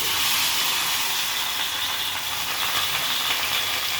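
Fish seasoned with salt, chili and coriander powder frying in hot oil, a loud, steady sizzling hiss heard up close with no break.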